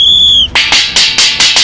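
A whistle is blown several times to start a musical chairs round, with a steady shrill tone first and then four short sharp blasts in a quick rhythm, loud and close.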